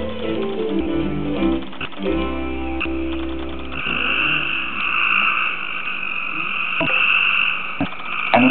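Frogs croak and trill in the Great Smoky Mountains, a close, loud chorus of overlapping calls, with low croaks early on giving way to higher, sustained trilling.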